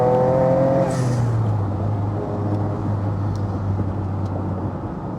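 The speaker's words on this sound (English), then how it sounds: "that engine is plenty powerful enough, great drivability, it doesn't sound quite as entertaining or as dramatic" A Noble M12 3R sports car engine drives along at close range, a steady droning hum that rises in pitch at the start and then holds an even tone, with faint clicks over the top.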